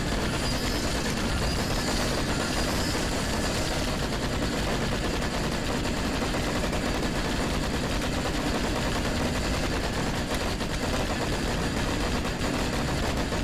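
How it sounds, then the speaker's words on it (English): Sustained machine gun fire in the Dreamcast video game Toy Commander, a dense, continuous rattling barrage that stays loud and unbroken throughout with no pauses or voices. "Oh my gosh, that's my machine gun now."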